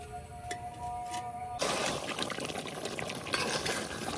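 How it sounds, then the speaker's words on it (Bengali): Water is poured into a pot of sacrificial meat cooking down for bhuna khichuri. A steady, close splashing pour starts after a quiet moment and continues to the end. "এই পর্যায়ে আমি অল্প একটু পানি দিয়ে নেম। এই পানিটা দিয়েই মাংসটা সেদ্ধ হয়ে যাব"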